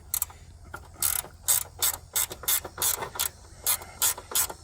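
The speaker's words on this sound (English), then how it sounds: "I love these ratchet wrenches." A ratchet wrench loosens the headlight ground bolt on a Subaru WRX, producing rapid bursts of close, crisp clicking in quick repeated strokes with short pauses between.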